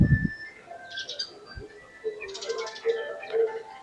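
Bird chirping in short, bright bursts on a pedestrian street in Beijing, moderately close, with faint street ambience and no talking.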